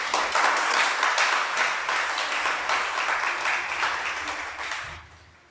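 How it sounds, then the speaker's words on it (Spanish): An audience claps together during a Sabbath sermon, loud sustained applause that holds steady for about five seconds before fading out quickly at the end. "Un aplauso al Creador."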